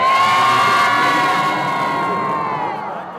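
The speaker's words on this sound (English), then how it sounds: "The last cheer from everybody." Crowd cheering and shouting inside an indoor stadium at a university games opening, a loud sustained roar of many voices with high children's shouts that slowly fades toward the end.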